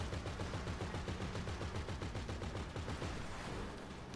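Gunfire in the video game GTA 5 Online: a rapid, steady automatic burst repeats loudly and without a break for about four seconds, then tapers slightly at the end.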